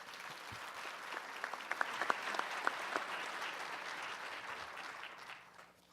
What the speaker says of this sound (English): round of applause for Margaret.